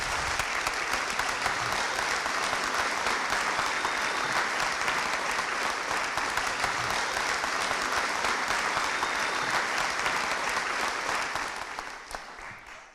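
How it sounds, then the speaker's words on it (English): Sustained applause from a large crowd at a carol concert, dense and steady clapping for about eleven seconds before tapering off near the end. "I think that deserves a round of applause."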